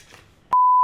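A faint rustle gives way to an abrupt, loud, steady electronic bleep tone that holds to the end.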